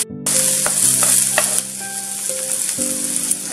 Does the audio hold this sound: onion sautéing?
yes